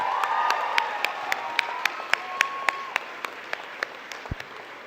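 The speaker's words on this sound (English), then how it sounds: "Give yourself a round of applause once more." A university convocation audience applauds the graduating class. Sharp, evenly spaced claps stand out above the general clapping, and the sound thins and fades toward the end.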